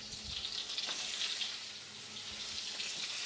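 Cubed onions and peppers sizzle in a hot pan with a steady, bright hiss and scattered soft pops, fairly quiet and close, with no voices over it.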